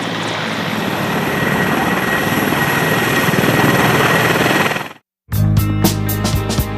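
Russian Mi-35M or Mi-24 attack helicopter in flight, a loud, steady broadband rotor and turbine roar for about five seconds before a short cut, then other loud sound takes over.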